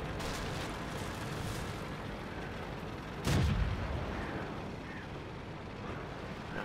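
A single cannon shot from a Type 3 Chi-Nu Kai tank in World of Tanks booms once midway, a short, fairly low burst over a steady engine rumble.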